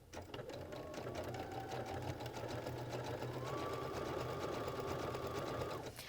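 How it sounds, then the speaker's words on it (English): A Baby Lock sewing machine fitted with a garment maker foot stitches fabric in one steady, continuous run of close mechanical whirring and needle chatter that lasts about six seconds, then stops. "So let's stitch."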